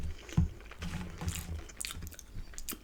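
McDonald's fries bitten and chewed close to the mic, a few soft crunchy bites followed by quiet, wet mastication sounds.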